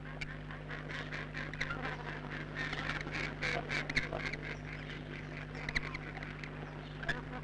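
Ducks, including hard-head or white-eyed diving ducks, on Cullens Lake, a wetland drought refuge in Victoria: scattered quacks and calls spread throughout, moderately distant, over a steady low hum and background noise.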